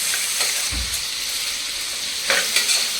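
Small onions with a pinch of rock salt sauté in a hot pan for a mutton kurma, giving a steady, close sizzle with a couple of brief stirring scrapes; no voices.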